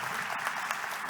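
Audience applause closing a conference talk at a software testing event, steady dense clapping from a crowd throughout, fairly loud and even with no speech.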